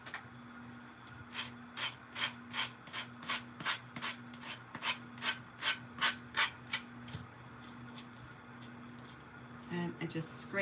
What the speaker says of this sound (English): And I just scrape the edges, comes right off.